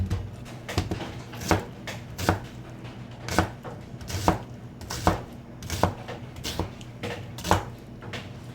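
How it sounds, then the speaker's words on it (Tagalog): A knife chops through an onion on a cutting board, a dozen sharp, evenly spaced thuds in a steady rhythm, close and clear with no talking. "So, hiwain natin yung onion. Kalahati lang."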